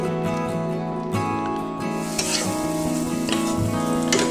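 Pasted dried fish for a shutki bharta being stirred in a wok: a close, continuous sizzle with soft scraping strokes and a steady tonal hum running underneath, no talking.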